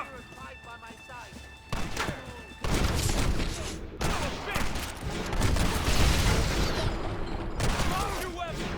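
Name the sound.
gunfire in a gate battle in Red Dead Redemption video game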